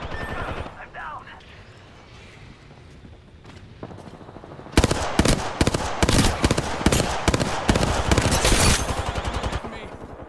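Gunfire in the battle royale shooter Apex Legends: after a quieter stretch, a loud, rapid burst of automatic weapon fire kicks in and continues in dense volleys to the end.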